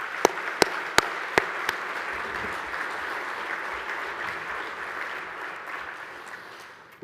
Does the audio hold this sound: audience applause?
yes